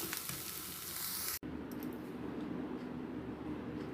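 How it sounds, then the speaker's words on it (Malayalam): Beans thoran with ground coconut paste is stirred in a pan, giving a close, steady sizzle with soft scraping that breaks for an instant partway through and then carries on alone. "ഇതിൻ്റെ കൂടെ കൂട്ട് അരച്ചത് ചേർത്ത് ഇളക്കിയെടുക്കാം"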